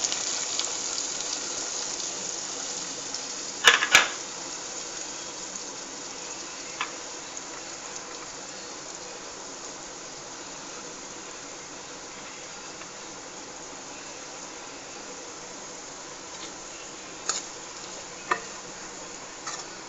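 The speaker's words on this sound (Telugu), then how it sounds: "నేను ఇందాక రేపిన మూకుడు ఉంది కదా, అందులోనే ఆనియన్స్, టమాటా ముక్కలు మొత్తం కలిసి వేసేస్తున్నాను" Onions and tomato pieces fry in a pan with a steady, even sizzling hiss, broken by a few sharp clinks of stirring.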